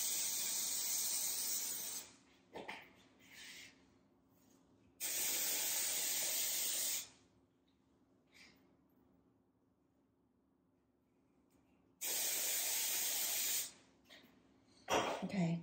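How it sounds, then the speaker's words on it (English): Dry shampoo sprays from an aerosol can onto hair in several bursts, each a close, sharp hiss lasting a couple of seconds, with quiet gaps between. "I'm gonna do the dry shampoo."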